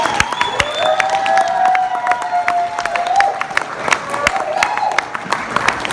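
Wedding guests break into applause during a bridesmaid's toast, steady clapping and some cheering under a sustained tonal sound for several seconds.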